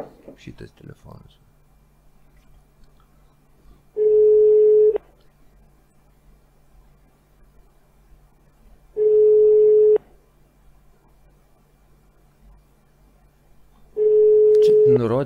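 Ringback tone of an unanswered phone call to a listed number: three steady, loud beeps, each about a second long and about five seconds apart, over a faint low hum with brief murmuring at the start.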